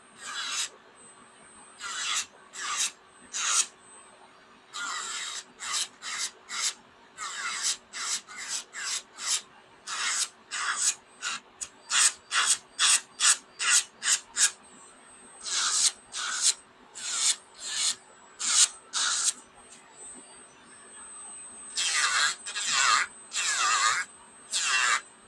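Cordless rotary tool at 20,000 RPM grinding chrome off a top coat, heard as many short, bright rasping bursts repeated in quick irregular strokes, close and fairly loud, with brief pauses between groups.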